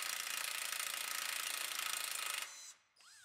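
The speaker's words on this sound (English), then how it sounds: "we can unbolt our strut from our knuckle" Impact wrench rattling loose the strut-to-knuckle nuts on a Buick Enclave, a loud rapid hammering burst that stops abruptly, followed by a short whine as the tool spins down.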